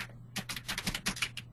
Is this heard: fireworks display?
no